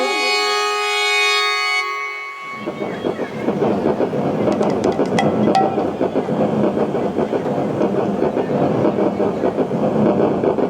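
A passing train near a railway station rumbles steadily and loudly close by, with rhythmic clickety-clack from the rail cars and a few sharp metallic squeals, replacing a sustained musical tone heard at the start.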